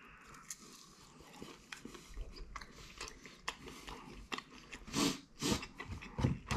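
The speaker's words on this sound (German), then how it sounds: "Beißen mal hier oben ab." Someone bites into a grilled köfte skewer and chews. Crunchy bites and wet mastication sound close to the mic in irregular bursts that grow louder toward the end.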